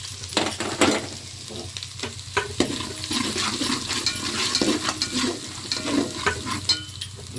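Ginger garlic paste mixed with garam masala fries in hot oil over a low flame, giving a steady close sizzle with occasional stirring scrapes and clinks throughout.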